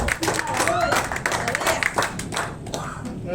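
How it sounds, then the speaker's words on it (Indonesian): Church congregation at a Sunday service clapping for Jesus, a close, lively burst of hand claps with voices and murmurs mixed through it. "Kasih tepuk tangan dulu buat Yesus."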